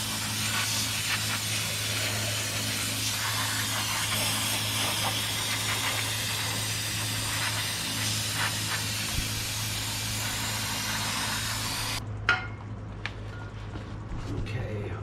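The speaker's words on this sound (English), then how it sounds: "had some brake cleaner over here. Alright, let's see how this cleans up." Brake cleaner sprays steadily onto the rear brake parts of a 1952 Chevrolet Styleline Deluxe, a long continuous hiss over a low hum that cuts off sharply near the end, followed by a few faint clicks and handling sounds.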